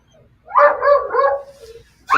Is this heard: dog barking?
yes